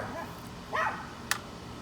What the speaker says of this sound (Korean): 개가 짖네요.